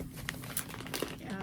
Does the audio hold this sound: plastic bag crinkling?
yes